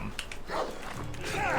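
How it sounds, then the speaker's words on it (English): A dog or wolf barks and yips in Assassin's Creed Odyssey, a few short bursts close by mixed with game sounds and a voice talking over them. "Bad dog, down."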